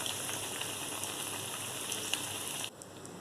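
Egg bondas fry in hot oil at medium flame, giving a dense, steady sizzle and crackle close up that softens slightly near the end.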